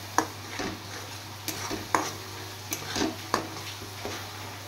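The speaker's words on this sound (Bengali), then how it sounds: "এবার আমি ধনের গুঁড়ো সহ আর একটু ভেজে নেব।" Onions and coriander powder fry in a pan with a soft sizzle, while a spatula scrapes and stirs in irregular strokes and clinks a few times against the metal.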